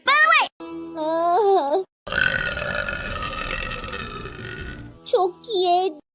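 A cartoon girl lets out a long, loud, drawn-out burp, framed by short bursts of animated character talk before and after.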